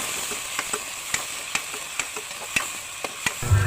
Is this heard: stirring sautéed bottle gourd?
yes